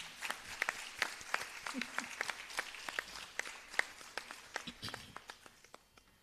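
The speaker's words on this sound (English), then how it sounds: "Let's give her a huge round of applause." An audience at a Bharatanatyam arangetram gives soft, distant applause. Sparse individual claps rise in a steady, low patter that continues for several seconds.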